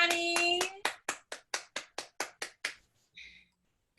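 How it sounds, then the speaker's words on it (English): At a virtual end-of-camp show, a brief voice gives way to about ten steady, evenly spaced handclaps, close and crisp, ending with a short faint tone. "get your hands together, clap it up for Kimani."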